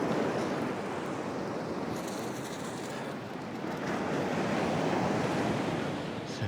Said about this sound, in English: There's some big old waves out there